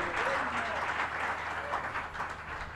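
A church congregation at a pastor's ordination service claps for Brother Branham, giving a continuous wash of hand clapping with a faint voice murmuring beneath it.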